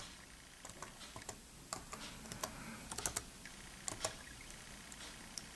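Keys tapped on a computer keyboard while a root password is entered during a CrunchBang Linux install, scattered quiet clicks in short irregular bursts, close and soft with no talking.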